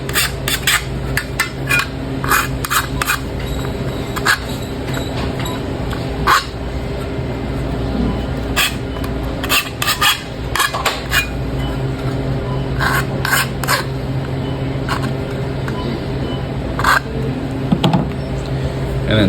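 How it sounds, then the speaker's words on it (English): Deburring the cut edge of a cover removed from a telepole access, a run of sharp irregular scraping and tapping strikes up close over a steady low background hum, with no talk. "So the final bit of work is to deburr the cover that was removed."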